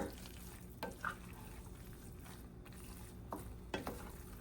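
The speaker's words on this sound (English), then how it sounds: "I'm just going to stir this in." Orzo being stirred in a pan over low heat gives a soft, quiet sizzle, with a few scraping strokes of the spoon marking an uneven rhythm.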